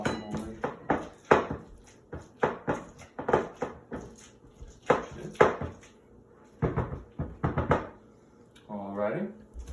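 Avocado being mashed and mixed for guacamole in a bowl, heard as a series of irregular soft thuds and scraping knocks, close by, under a person talking.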